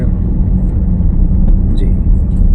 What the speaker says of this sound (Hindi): क्लच दबाएं, एक्सीलरेटर छोड़ के, थर्ड गियर